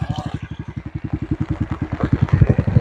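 A motorcycle passes close by with a fast, regular, thumping engine beat that grows a little louder toward the end.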